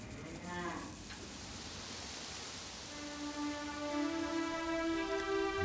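Cattle lowing in a pastoral countryside setting, with several sustained moos rising and overlapping against a steady wash of outdoor noise like rain or running water, moderately distant.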